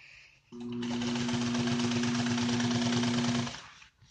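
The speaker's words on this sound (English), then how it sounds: "And we'll start sewing all the way around." An upholstery sewing machine stitches automotive seat covering in one steady, loud run of about three seconds, a fast mechanical chatter with a strong motor hum that starts and stops sharply.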